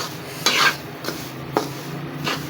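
Semolina roasting in ghee, stirred with a spoon in a pan, makes soft scraping strokes roughly every half second over a faint background hiss.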